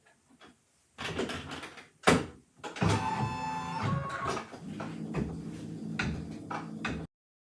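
An embroidery machine stitches out the first step of an in-the-hoop zip bag, starting with a loud clunk and then settling into a steady mechanical whirr and rattle that stops abruptly.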